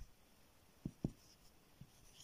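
Pen strokes in an exercise book make a few soft scratches and light taps, close and quiet, with near silence between them.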